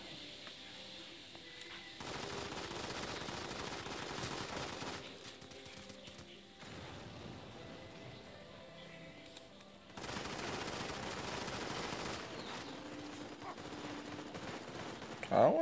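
Sustained automatic gunfire in the mobile shooter Modern Combat 5, arriving in long dense stretches of rattling shots separated by quieter gaps, steady and fairly faint throughout.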